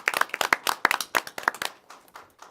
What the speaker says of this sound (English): I don't know if we want to give them a round of applause